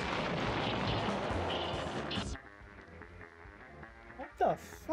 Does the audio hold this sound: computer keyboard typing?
no